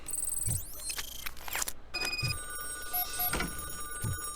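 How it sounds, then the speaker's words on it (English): A telephone rings in RoboCop: Rogue City, a video game, with repeated electronic ring bursts. Other game sounds are mixed in, including faint thuds and scrapes. "Answer the phone."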